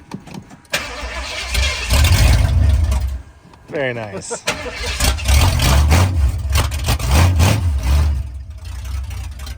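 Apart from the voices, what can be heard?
truck engine running, 302 swapped in for 351M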